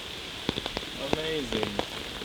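Rain falls steadily at Villa Balbianello on Lake Como, a soft, even hiss throughout with a few faint drips and brief sounds on top.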